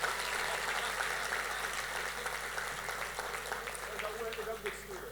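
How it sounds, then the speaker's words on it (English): An audience claps in applause at a high school graduation ceremony, a steady wash of hands clapping throughout at moderate volume, fading slightly toward the end. "Let's give her a round of applause"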